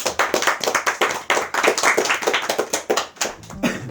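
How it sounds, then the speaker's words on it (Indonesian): A small group claps for guests on an Indonesian talk show, a close, dense patter of hand claps lasting several seconds with little talk underneath. "Tepuk tangan dulu dong buat mereka."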